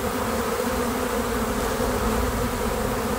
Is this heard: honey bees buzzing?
yes